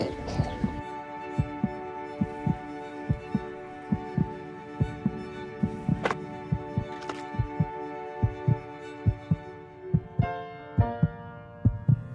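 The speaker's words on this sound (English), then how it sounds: "This song was created with heartbeats of children in need." A song built from recorded heartbeats of children in need, with steady, evenly spaced soft thumps pulsing beneath a sustained musical drone and tones for the whole stretch.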